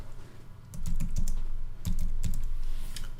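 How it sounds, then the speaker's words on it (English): Keywords typed on a computer keyboard in two quick bursts of close, clicky keystrokes separated by a short pause, with no voices. "I type in what I'm looking for"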